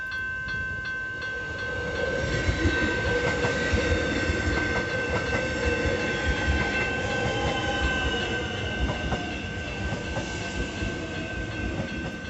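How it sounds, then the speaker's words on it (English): A public commuter train pulls into a station in the beachside town of Altona, Australia, with a loud, sustained rumble of wheels on rails, rhythmic clattering and a high steady squeal that lasts throughout. "But here comes the train now"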